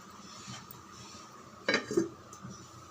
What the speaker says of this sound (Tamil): தட்டு போட்டு மூடி வச்சிடலாம், கொதிக்கட்டும்.